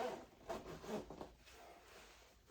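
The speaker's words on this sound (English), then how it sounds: "So I'm going to pull the right zipper this time. Zips it straight up." The zipper of a Kings Camo XKG jacket is pulled up in a few quick close rasping strokes, then fades to quiet.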